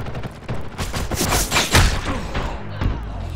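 Gunfire in the Ghost in the Shell video game: a dense, continuous burst of rapid shots and impacts, loud and close, with thuds and mechanical clatter mixed in.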